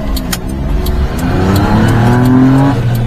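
A mini-truck engine fitted with a larger 32mm carburetor revs hard and accelerates, its pitch climbing through a gear change, loud and close with no talk over it.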